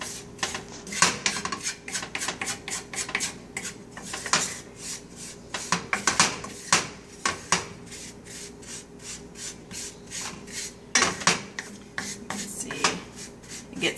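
A spoon scrapes and stirs cocoa powder for Southern chocolate gravy in a pot, rhythmic rubbing and scraping strokes in uneven bursts, close and moderately loud with no talking.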